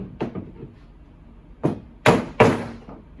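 A 1/2 inch PVC pipe is whacked into a glued 1/2 inch fitting, giving several dull knocks that build into two louder, sharper hits near the end; close, with no voices.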